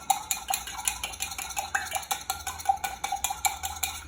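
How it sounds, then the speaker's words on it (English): Egg yolk and white being whisked with a spoon for a Tia Maria Flip cocktail: quick, continuous clinking and scraping of the spoon against the vessel in a fast, even rhythm, close and fairly loud. "I'm gonna whisk it with my spoon just to break up the yolk and the egg white"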